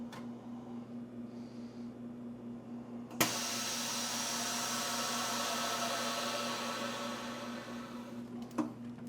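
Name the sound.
vacuum sealer sealing frozen par-baked pizza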